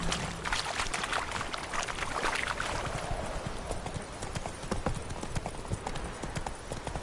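Horse hooves galloping in The Witcher 3 on PS5, a fast rhythmic clip-clop that continues steadily throughout, with faint game ambience beneath.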